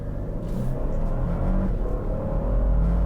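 A 2022 Lexus LX 600 SUV in Sport Plus accelerating hard from 0 to 60, a steady loud low engine rumble and road roar building throughout, heard from inside the cabin without talk.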